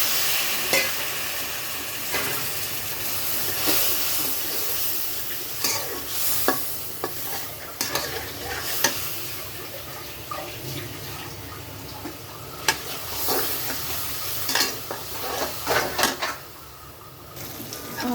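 Shrimp frying and being stirred with spices in a pan, a steady close sizzle broken by repeated scraping strokes of a spoon against the metal, with no talking.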